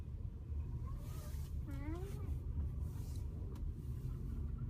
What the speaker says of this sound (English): Here I'm just driving, looking for a spot, not finding any in the first two rows.